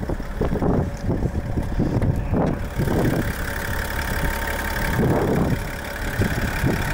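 A 2021 Chevrolet Silverado LT with a Duramax 3-liter turbo diesel idles under the open hood, a low steady rumble heard close up with some wind buffeting the microphone and a few soft knocks early on.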